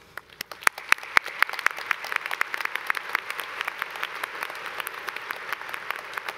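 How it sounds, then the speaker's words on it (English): Audience applause for faculty at a university commencement ceremony, a burst of sharp distinct claps at first that settles into a steady, dense patter of clapping from a large crowd. "they deserve a round of applause"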